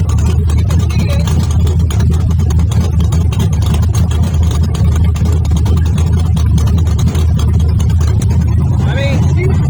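A car running with its drivetrain and pinion gear turning, a steady low engine drone and broadband mechanical rumble throughout, with talking over it.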